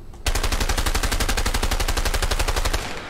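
Sustained automatic gunfire in A Way Out, a fast even rattle of many rounds lasting about three seconds, loud and close, with no voices.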